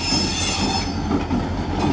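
A freight train of boxcars rolls past close by, wheels squealing in a sustained high whine over a constant low rumble of rail cars, loud and unbroken throughout.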